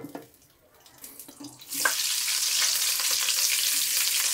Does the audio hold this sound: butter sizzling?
yes